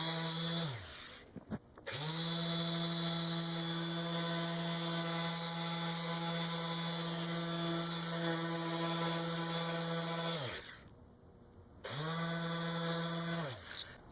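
A rotary buffer polishing a car headlight at higher speed, a loud steady motor whine with strong harmonic tones, spinning down briefly at the start and again near the end before revving back up.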